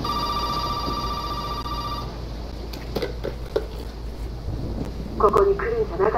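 Ringing telephone in the Resident Evil 7 horror game, a steady bell ring for the first two seconds that then stops, leaving a dark ambient hum with scattered thuds and a brief voice near the end.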